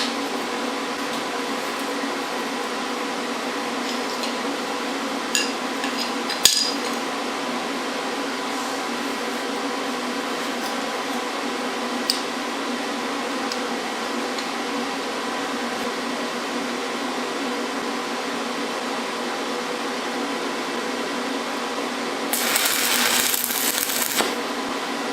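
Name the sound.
stick welding with a welding rod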